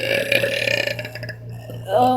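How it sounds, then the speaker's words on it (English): Someone forces an air burp during a burping challenge, a strained guttural belch rolling through the first second or so, then a short rising vocal sound near the end; close and loud. "we're doing the air burping challenge"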